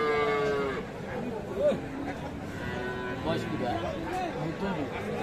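Cows and calves mooing at a busy village cattle market, one low drawn-out moo rising from a steady crowd babble and nearby voices.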